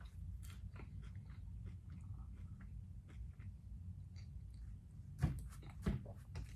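Dry, crispy bites of a Nature Valley creamy protein bar being chewed close up, a steady crunching mastication with a couple of louder bites near the end, no talking.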